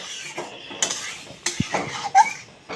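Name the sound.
stirring spiced curry in a pot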